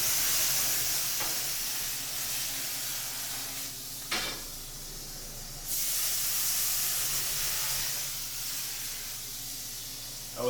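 Alcohol hitting a hot steak au poivre pan to deglaze it gives a steady, loud hiss and sizzle that stays dense throughout, with a sharp burst around the middle and a renewed surge later on.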